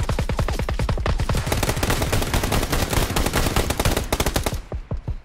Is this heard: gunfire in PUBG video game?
yes